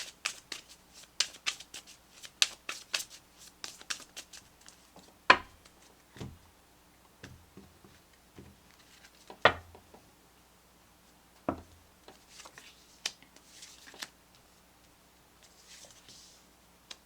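An Everyday Witch Tarot deck being shuffled and cards pulled: sharp, quiet riffling snaps and clicks come in irregular bursts, with softer card slides and pauses between them, close by.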